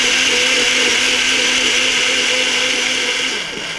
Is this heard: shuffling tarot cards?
no